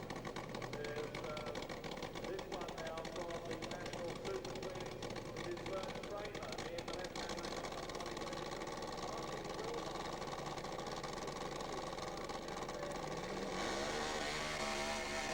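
Street and competition drag-racing motorcycles, including Martin Wilmot's Triumph, roar down the strip in a continuous, loud engine howl that persists throughout, with announcer commentary over the top.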